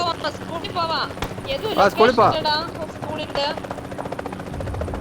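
A helicopter in the mobile game PUBG Mobile drones steadily in the background while people talk excitedly over it in bursts.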